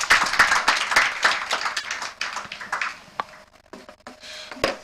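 An audience at a Nigerian corporate sustainability report launch claps as a guest comes forward, loud close clapping that thins and fades after about three seconds into a few scattered claps and quiet room noise.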